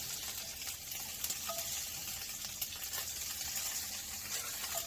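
Bacon fries in a pan with a little oil, a continuous close crackling sizzle with scattered pops and spits, no talking.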